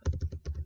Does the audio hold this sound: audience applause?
no